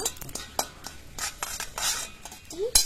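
Poppy seeds dry roasting in a pan with no oil, heard as light scraping and clinking stirs against the metal, irregular taps and brushing strokes with faint crackle, close and fairly quiet.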